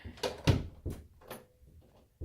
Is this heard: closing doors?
yes